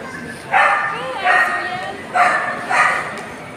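A dog in a parking area barks four times in an even rhythm, fairly close and clear, with faint voices in the background.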